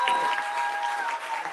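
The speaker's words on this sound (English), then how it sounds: "Another applause, please, for Nekima Levy Armstrong." Live studio audience in Minneapolis applauding after a guest's speech, a steady wash of clapping at moderate distance filling the short stretch without a break.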